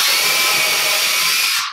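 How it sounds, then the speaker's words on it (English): A power drill bores a pilot hole through willow wood for a handmade chair, one steady, loud, close whir that holds level for nearly two seconds and then stops quickly. "I only have to pre-drill through the first one"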